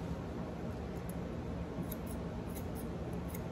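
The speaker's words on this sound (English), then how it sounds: "I go in and just snip and make a little, just a wide like U" Scissors snip steadily at the curly hair on the head of an Australian Labradoodle during grooming, a close, continuous run of quick metallic cuts with no talking.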